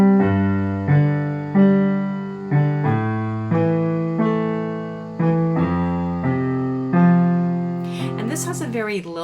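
Piano left hand playing a rocking broken-chord pattern with a short extra note at the end of each measure, steady and lilting, with a brief glissando-like flourish near the end.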